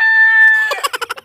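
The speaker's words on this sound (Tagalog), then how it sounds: "Ang ingay ng manok" A short run of rapid, sharp clucks from a chicken, five or six quick pulses following a brief high tone.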